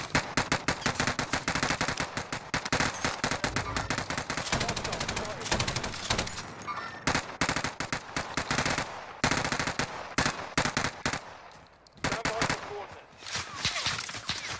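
Dense, near-continuous gunfire in Call of Duty Warzone, rapid automatic bursts and overlapping shots firing loudly almost without pause, with a brief lull near the end before the shooting resumes.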